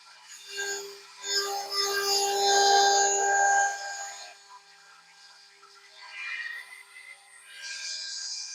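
A band saw blade is fed into an Elite MVB 650 saw sharpening machine, making a rasping metallic rub that runs for about three seconds, fades, then returns more faintly, with no talk over it.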